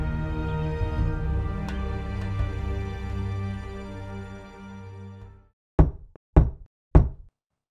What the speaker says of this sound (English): Someone's knocking.